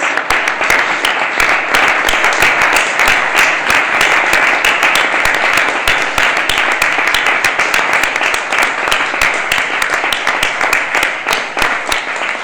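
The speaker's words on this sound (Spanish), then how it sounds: "un aplauso a toda la gente que nos ha acompañado" Sustained applause from a large audience at the Ibero-American summit in Andorra, dense steady clapping that stays loud and even throughout.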